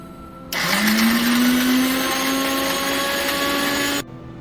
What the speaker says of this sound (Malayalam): അപ്പം ഞാൻ മിക്സിയിൽ അത് ഗ്രൈൻഡ് ചെയ്ത് എടുക്കാം.